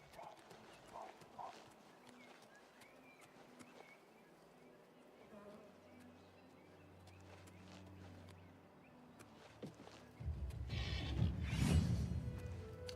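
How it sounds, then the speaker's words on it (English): Horse hooves clip-clop in the video game Oblivion Remastered, a steady rhythmic patter under game ambience and buzzing insects, growing louder and busier near the end. "so we get to take this horse"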